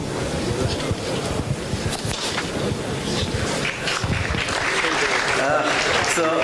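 An audience at an international conference and summit applauds to welcome the Chancellor, a steady wash of clapping that stays fairly even throughout, with faint voices mixed in.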